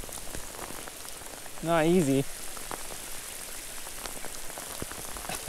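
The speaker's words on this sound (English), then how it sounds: "There wasn't supposed to be this much rain." Heavy rain pouring down on a Pacific Northwest winter steelhead fishing outing, a dense patter of drops hitting surfaces close around, with a brief spoken phrase partway through.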